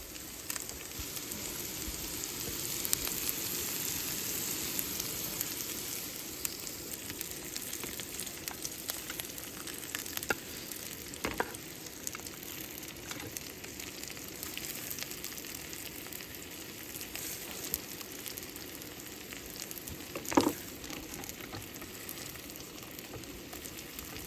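Leftover ribeye steak and a bit of fat sizzle steadily in a pan at a winter campsite, a soft continuous frying hiss with occasional faint pops and scrapes, no voices.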